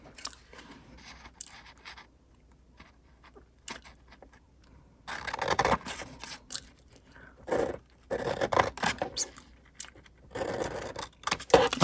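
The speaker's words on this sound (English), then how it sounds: "We're going to cut in and form notches" Scissors cut notches into a paper card box in short dry snipping and scraping strokes, quiet at first and then closer and more frequent, with no talking.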